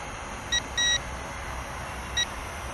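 A few short, high electronic beeps from a XIANGYU Falcon folding FPV drone's transmitter in headless mode sound over a steady hiss: two quick ones close together, then a single beep about a second and a half later.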